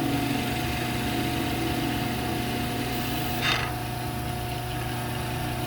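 Wood lathe spinning a glued maple blank during woodturning, a steady mid-pitched motor hum with a faint whine, continuous and close, with a brief higher scrape near the middle.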